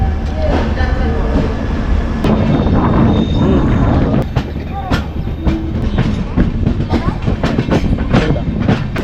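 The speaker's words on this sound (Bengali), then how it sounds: "তো ট্রেন ছেড়ে দিল খুর্দা রোড জাংশন থেকে।" The 12863 SMVB Express runs on its rails with a loud, continuous rumble and repeated sharp clicks and clacks from the wheels, heard from on board with no one talking.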